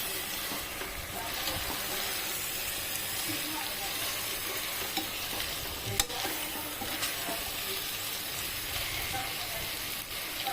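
Fried prawns stirred in a hot pan keep up a continuous sizzle and steady hiss, with a single sharp scrape of the spoon partway through and no talk.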